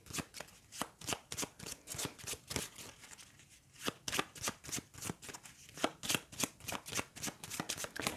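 A deck of cards for the racing board game HEAT shuffled by hand, steady rhythmic flicks repeating roughly twice a second, crisp and close, with no voices.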